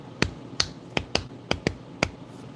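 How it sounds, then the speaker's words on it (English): Golf clap, about seven light, sharp, evenly spaced claps given slowly and close up. "I shall give you a golf clap."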